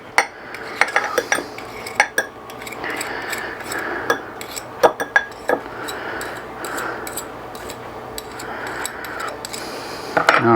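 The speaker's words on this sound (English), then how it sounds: "let's go whisk this up" Whisk beating seasoning ingredients in a bowl for blackened catfish tacos, with irregular sharp metallic clinks and taps against the bowl and a soft swishing underneath, close up and with no speech.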